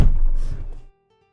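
Knuckles knock on a whitish stucco wall: a short burst of dull, low thuds close by, lasting under a second and followed by silence.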